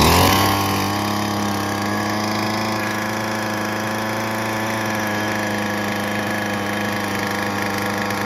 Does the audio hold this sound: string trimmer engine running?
yes